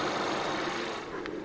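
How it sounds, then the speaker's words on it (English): A 2015 Volkswagen Cross Polo 1.2 TSI direct-injection petrol engine idles with a steady, fast ticking clatter much like a sewing machine, close and continuous, with a brief higher whine near the end. "the odd sound that the engine makes is just because it's a direct injected engine"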